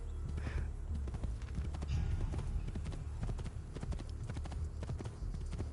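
Horse hooves clip-clop steadily at a trotting rhythm in Assassin's Creed II, a 2009 video game, running the whole time under a constant bed of game ambience and music.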